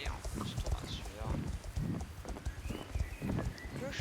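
Hooves of a birthday horse clip-clopping along in Star Stable Online, a steady rhythmic gait under continuous French chatter from a player.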